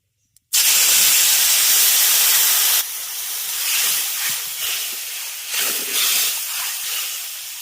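Turmeric and tamarind pulp hit hot oil for a sour drumstick-flower dish, bursting into a loud sudden sizzle that roars for a couple of seconds, then settles into a quieter, crackling hiss.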